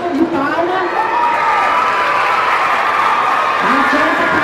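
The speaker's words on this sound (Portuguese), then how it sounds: "Uma salva de palmas." A large school crowd at a model Olympics ceremony gives loud, sustained applause and cheering for a student athlete, with whoops, voices and a sung or shouted tone layered above the clapping throughout.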